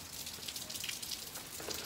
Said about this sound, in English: Looks like I'm gonna have to stay out the rain.